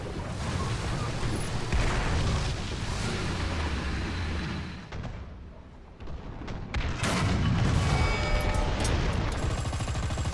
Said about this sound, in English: As BC turns to exchange fire yet again with the tank destroyer on the ridge line